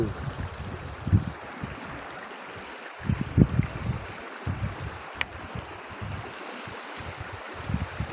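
A flooded river swollen by heavy rain rushes steadily past farm fields. The churning water makes a continuous roar with low, irregular surges and splashes throughout, and no voices.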